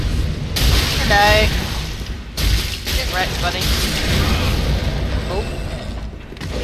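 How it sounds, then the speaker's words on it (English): Fireworks burst with deep booms during Dark Souls 3 co-op combat, a few loud blasts spaced apart under frequent talking. "He's throwing these fireworks at me."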